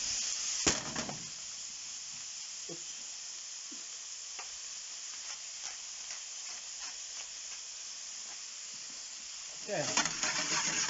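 Tagliata steak fries in a pan with garlic, oil and chili, giving a steady close hiss and sizzle with a few small pops. The sizzle surges louder at the start and again near the end, and one brief word is spoken.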